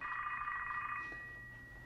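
Telephone ringing with a bright electronic tone, one sustained ring that stops partway through, followed by a quiet pause, nearby and alone without speech.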